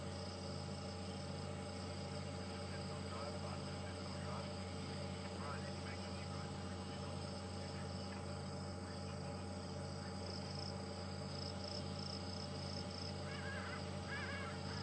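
Harsh, raucous calls of a hadeda ibis at night at Djuma Game Reserve, coming repeatedly over a dense, constant drone of cicadas and crickets. A steady low hum from a vehicle runs underneath throughout.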